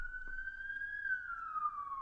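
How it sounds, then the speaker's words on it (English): An emergency vehicle siren outside in New York, a single faint, distant wailing tone gliding slowly up and then down, heard alone. "if you're hearing sirens in the background, we are in a pandemic zone, so that is to be expected."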